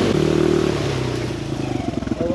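A two-stroke dirt bike engine runs close by, a steady buzzing drone that eases off and then pulses unevenly, with a voice speaking briefly over it.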